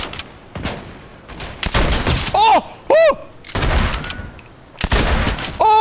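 Sharp, loud shots from an exotic sniper rifle fired from the hip in a video game, several separate cracks with ringing tails and gaps between them, mixed with game effects.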